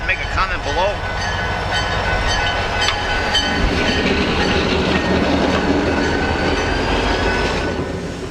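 A lone locomotive clearing snow and ice off a railroad crossing after a snowstorm rumbles past with loud, steady rail noise, wheel clatter and faint squeals building close by, with a voice heard over it.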